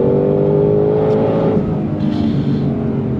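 S550 Ford Shelby GT500 engine on throttle, a loud continuous roar heard from inside, steady and powerful through the whole stretch with a slight dip midway, no talking over it.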